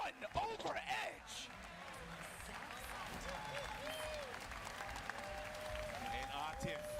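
Crowd applauding at a Combo Breaker fighting game tournament top 8, a steady wash of clapping and cheering from a large audience at moderate distance, with a commentator talking over it.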